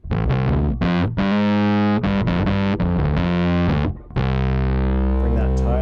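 Distorted bass notes played through a Tym Guitars Bass Black Mud distortion pedal on its low gain setting, gritty but fairly clean, several sustained notes in a riff with a held final note.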